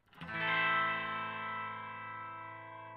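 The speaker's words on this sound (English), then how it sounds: "The third control is our Detuned Control, and that adds some modulation to the signal." Boss MO-2 Multi Overtone guitar pedal in mode 1 with the detune control adding modulation: a single sustained, shimmering distorted guitar chord rings out for about three seconds, its chorus-like wavering slowly fading.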